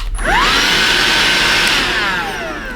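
A Bosch BBH3211GB cordless vacuum cleaner, used in handheld mode, switches on with a quick rising whine and then holds a loud, steady motor roar close to the mic.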